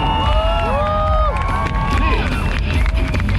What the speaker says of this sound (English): Give them 3 times the applause right here.